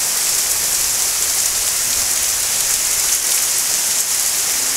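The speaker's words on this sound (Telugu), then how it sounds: "చూడొచ్చు ఎంత హెవీ రైన్ పడుతుంది" Heavy rain pouring down in a steady, dense hiss, loud and close, with no breaks or changes over its length and no voices.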